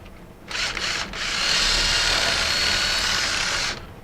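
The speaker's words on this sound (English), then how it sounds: "come back and get your drill bit and just kind of round it out" A power drill with its bit spins up in a pop-rivet hole to round it out, whirring loud and close in a couple of short bursts before one sustained run that stops abruptly.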